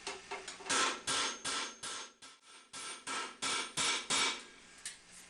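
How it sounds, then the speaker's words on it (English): Steady, ringing hammer blows on a steel helmet piece held against a bighorn anvil, roughly a dozen sharp metallic strikes in an uneven rhythm with brief pauses, close and loud. "I'm also making sure that I'm hitting the hammer parallel to the face of the bighorn"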